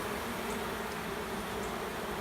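Honey bees hum inside a queenless hive in a continuous, fairly loud, close drone with no voices.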